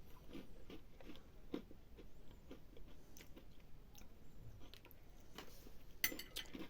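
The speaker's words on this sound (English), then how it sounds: "Like the sound of me eating these crackers." Someone eating crackers, with faint crisp crunches and small bites scattered irregularly over several seconds, heard close but quiet against a low room background.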